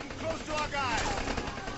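Gunfire while shooting enemies in Rambo: The Video Game, a short loud burst of rapid automatic fire over game noise.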